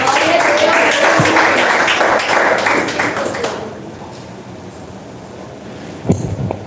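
A church congregation claps loudly and steadily for a few seconds, then the applause fades away into quiet room noise with a brief knock near the end.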